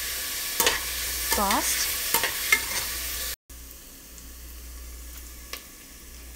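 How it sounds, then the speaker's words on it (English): Onions frying with salt in a hot pan give a broad, continuous sizzle, stirred with scraping strokes. A brief voice cuts in near the start, and a short dropout is followed by a quieter, steadier hiss. "fry the onion till golden brown. I'm just adding some salt into it so that it can cook"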